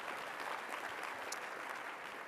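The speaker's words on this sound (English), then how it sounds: "One more round of applause for Andrew" A conference audience applauds a speaker at a food waste event with even, continuous clapping, moderately distant and soft, holding steady without any break.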